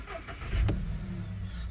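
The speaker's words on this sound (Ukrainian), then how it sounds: "Двигун заводиться з півоберту, робить чітко, помилок нема ніяких, оберти не плавають" A Volkswagen Touran 1.6 MPI petrol engine starts with a brief cranking burst, then catches and settles into a smooth, steady idle close to the microphone.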